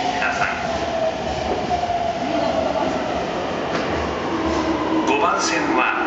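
A Toei Shinjuku Line 10-300 series train rumbles through Kudanshita Station with a heavy rolling roar, rail clatter and a rising whine near the end, while station announcements play over it.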